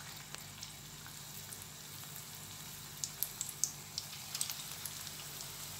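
Spinach pakoda fritters fry in a generous amount of hot oil, giving a soft, steady sizzle with scattered crackles and pops that grow busier toward the end, heard alone without any talk.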